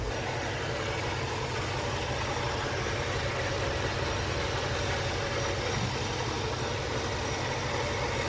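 A Chevrolet Camaro ZL1's steady engine idle with a continuous supercharger whine riding on top, constant and close, with no talking.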